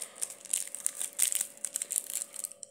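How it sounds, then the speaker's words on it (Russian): A sachet of instant Nescafé coffee is torn open and poured, giving a run of close, crisp crinkling and rustling that stops abruptly near the end. "один пакетик я либо за раз высыпаю"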